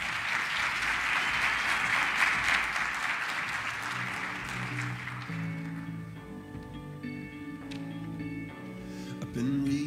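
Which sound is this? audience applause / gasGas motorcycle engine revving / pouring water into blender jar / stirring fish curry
audience applause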